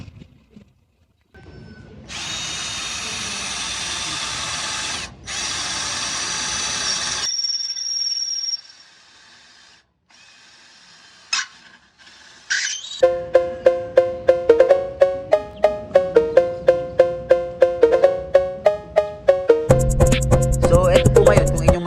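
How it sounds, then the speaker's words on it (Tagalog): A Harden cordless drill bores through a thick steel angle bar, its motor whining steadily in long bursts with pauses, then shifting into a rapid rhythmic chattering grind as the bit bites into the metal. "Itatry po natin kung kaya niyo magbutas ng angle bar."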